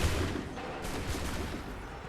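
Soldiers' musket volley in Assassin's Creed III, a dense burst of overlapping gunfire opening the clip and rolling into a sustained rumbling echo of shots, loud and slightly distant.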